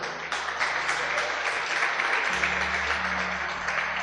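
A church congregation applauds, a dense, steady wash of clapping that holds evenly from start to finish, with faint musical tones underneath.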